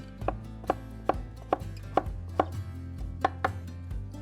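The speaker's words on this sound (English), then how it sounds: "Nice thin slices of pepper." A kitchen knife slices red peppers into thin strips on a cutting board, producing about ten crisp, evenly spaced chops at a steady rhythm, close and clear with no talking.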